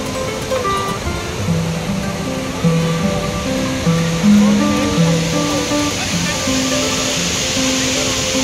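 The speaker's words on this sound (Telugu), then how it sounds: "తెలంగాణ నయాగారా జలపాతంగా పిలువబడే బోగత వాటర్ఫాల్ దగ్గరికి రీచ్ అయినాము" The Bogatha waterfall in Telangana roars as a steady, loud rush of falling water that fills the whole scene without a break, with voices faintly audible beneath the torrent.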